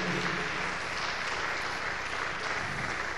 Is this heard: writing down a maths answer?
no